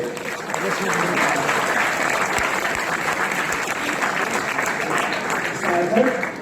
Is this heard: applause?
yes